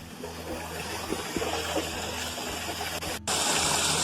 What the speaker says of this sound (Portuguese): até o barulho do rio, né, já fica mais forte.